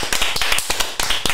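A small group gives a round of applause, with quick, sharp, uneven claps close by, filling the moment with no talk over it.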